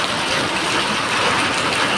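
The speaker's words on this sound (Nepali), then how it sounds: "पानी परिरहेको ठुलो पानी" Heavy rain pours down during a storm, a dense, loud, even hiss with no breaks or voices.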